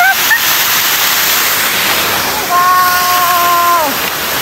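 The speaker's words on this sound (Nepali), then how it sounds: "हामीले झर्ना नि भेट्यौँ" A waterfall beside a hiking trail roars steadily and loudly up close, a dense continuous rush, with a few brief thin tonal whistles over it toward the end.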